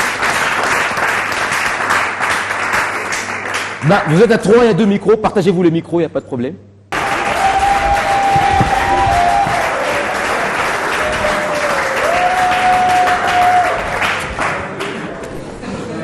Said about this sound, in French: Trio Lobby, on applaudit pour les trio Lobby.